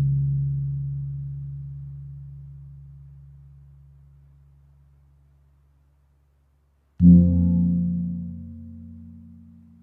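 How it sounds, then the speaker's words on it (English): A gong, the idiophone, hums with a low, slowly fading tone that dies into silence, then is struck again with a sudden loud onset and a fresh resonant swell. "Gong."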